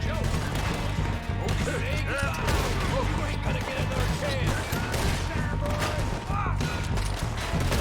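Gunshots in Red Dead Redemption 2 ring out in a loud, near continuous fusillade for about eight seconds, cracking and thudding amid a busy shootout, with voices talking in the mix.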